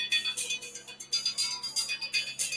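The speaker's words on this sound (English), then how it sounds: "It's ringing" Outgoing call ringback tone pulsing in a quick repeating pattern, heard faintly through a phone speaker, with soft room noise underneath and no talking over it.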